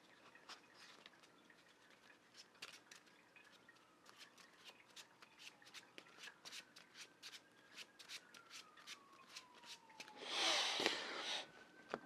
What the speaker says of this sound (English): So we're going to shuffle World Mind back into our deck.